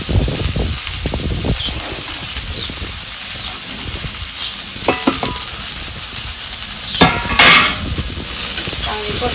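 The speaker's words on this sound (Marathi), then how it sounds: "आता ही आपण चिरून घेतलेली भाजी ना ही टाकायची याच्यात." Chopped safflower greens dropped into hot spiced oil in a pan, a steady sizzle with scraping stirs and a few sharp metallic clinks of utensil against the pan.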